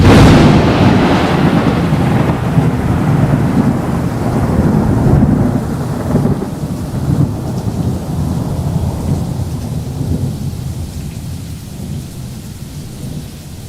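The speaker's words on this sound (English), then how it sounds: "That rain goes on and on." A recorded rain and thunderstorm sound file plays loud and full, with heavy continuous downpour and a long rolling thunder rumble that slowly fades and thins toward the end.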